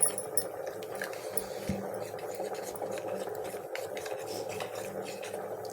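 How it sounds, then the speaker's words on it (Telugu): Gram flour being stirred into pumpkin pulusu curry: soft, quiet, repeated scraping and swishing of a spoon in the pot over a faint background hum, with no talking. "ఉండలు లేకుండా బాగా కలుపుకుందాము"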